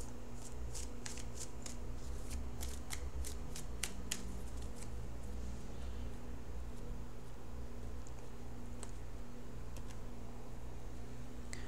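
A tarot deck is shuffled with a quick run of crisp riffling card flicks, then softer slides and taps as a card is drawn, faint and close against a low steady hum, with no talking.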